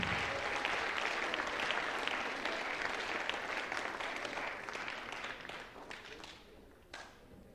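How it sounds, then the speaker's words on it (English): A school chapel audience gives the senior class a long round of applause, dense and steady at first, then thinning out over several seconds into scattered final claps, with faint voices underneath. "you can give a more robust round of applause to your senior class"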